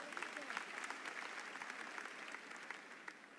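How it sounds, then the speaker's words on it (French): Audience applause at a political rally in Côte d'Ivoire, before an address to Ivorians: dense, steady clapping from a crowd that holds for the whole stretch without fading. "Il faut applaudir."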